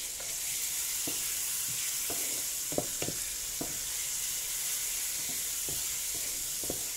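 Spice masala and cut garlic cloves fry in a pan with a steady, close sizzle, occasional soft stirring clicks and pops, and no talking.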